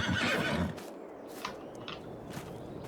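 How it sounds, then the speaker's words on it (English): A horse whinnies loudly in Farming Simulator 22, a bright neigh that fades out, followed by quieter clip-clop hoof sounds and small ticks in the game. "Oh, there's my horses."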